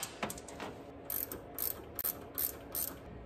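A bolt slides into the steering shaft coupler of a 1988-1995 Chevrolet OBS truck with an LS engine swap, giving a few brief, close metallic clicks and ratchety rattles with no voices.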